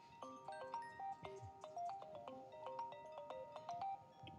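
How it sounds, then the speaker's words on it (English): A mobile phone rings with a bright, repeating melodic ringtone during a Santa training session, loud and steady for several seconds with no talking over it. "I forgot to turn my phone off."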